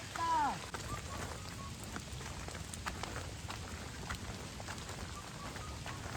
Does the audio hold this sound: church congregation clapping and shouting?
no